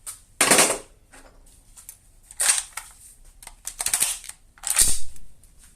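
A VFC MP5 airsoft gun fires through a full magazine until it runs empty and the bolt locks, heard as several sharp bursts of rapid clicking clatter spread across a few seconds with quiet gaps between.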